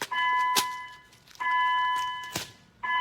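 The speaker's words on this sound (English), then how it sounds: "There's that fun clasp bell that we always hear" A bright clasp bell rings in repeated tones, with sharp clicks between them, the ringing sustained and fading in a regular cycle.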